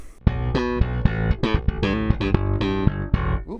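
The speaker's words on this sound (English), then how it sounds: "let's see how it sounds with some slap bass" Slap bass on a Strich P Bass playing a song chorus, punchy popped and thumbed notes in a syncopated rhythm, close and loud with no talking.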